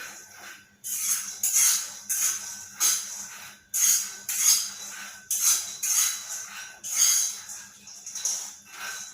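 White peanuts dry-roasting in a pan, stirred in repeated rhythmic bursts of rattling, scraping hiss with short gaps between, close up and without talk.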